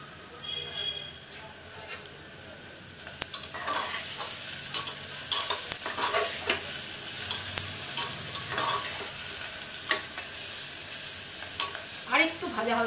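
Onions for a chicken dish fry in a pan with a constant close sizzle, growing louder partway through as they are stirred with repeated scraping strokes, with no clear speech over the cooking.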